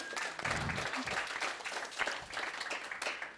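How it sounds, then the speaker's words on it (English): An event audience applauds a speaker who has just been introduced. The clapping is soft and somewhat distant, a brief patter of many hands lasting a few seconds. "So give a round of applause to Moby."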